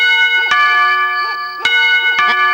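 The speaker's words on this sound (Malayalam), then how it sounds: "ക്ലോക്കിൽ മണി 2 അടിച്ചു." A clock striking two at midnight in a silent bungalow, with bright bell-like strikes ringing out one after another, each leaving a sustained humming tone, loud and close with no talk.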